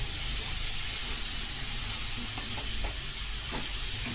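Kantola (spiny gourd) cooking in a spiced tempering over a low gas flame, a steady gentle sizzle and hiss with a few soft stirring clicks, close and continuous, without speech.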